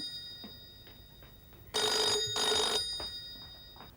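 A telephone rings indoors in a household, two clear electronic ring bursts back to back, loud and close after a quiet room.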